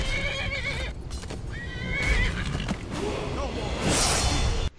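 A horse in the video game Skyrim whinnies loudly and close up, the neigh rising and wavering, followed by hoofbeats and a swishing rush over a busy background.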